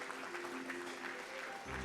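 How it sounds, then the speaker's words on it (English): Parents applaud at a school award ceremony, a steady sustained clapping from a large audience filling the whole stretch, with no speech over it. "Keep the applause going, dear parents."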